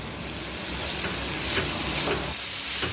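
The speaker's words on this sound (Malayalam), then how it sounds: "ഒന്നിളക്കി കൊടുക്കാം അതിനുശേഷം അടച്ചു വെച്ച് വേവിക്കുക" Bitter gourd stir-fry being stirred in a hot pan, soft sizzling with scraping strokes of the spoon, fairly quiet and close, no talking.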